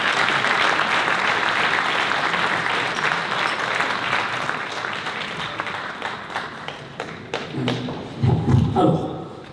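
Applause for the town committees at the 2023 New Year's greetings ceremony in Banyuls-sur-Mer, a dense crowd clapping loudly that thins out toward the end, with a few thumps and some murmuring near the close.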